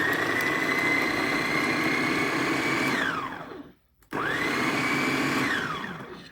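An 800W electric food chopper on level 1 whirs steadily while chopping onions. The motor winds down, goes quiet for a moment, then starts up again for a second loud, even run.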